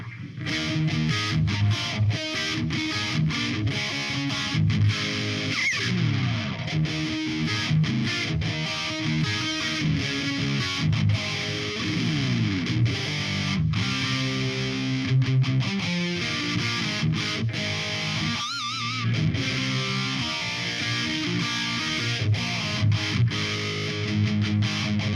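A heavily distorted Ibanez RG7320 seven-string electric guitar plays chugging low riffs and sustained chords, loud and continuous, with a brief pause near the end.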